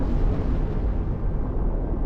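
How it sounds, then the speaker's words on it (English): Deep explosion of a torpedo in the shipbuilding game Besiege, heard as a loud, sustained low rumbling blast lasting about two seconds with no voices over it. "Torpedoes away!"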